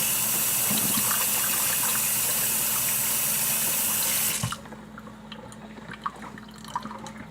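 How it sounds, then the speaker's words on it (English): Kitchen faucet running steadily and close while hands are washed, then shutting off abruptly to leave quiet room sound with a few small drips and clicks. "Wash my hands again."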